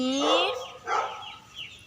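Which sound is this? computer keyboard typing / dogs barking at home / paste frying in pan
dogs barking at home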